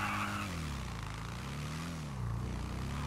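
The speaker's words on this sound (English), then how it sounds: "I just love the sound of this bike." A motorbike from the biker update in GTA 5 revs its engine, a steady rumbling drone with pitch that sags and rises again, loud and close throughout, with no talk.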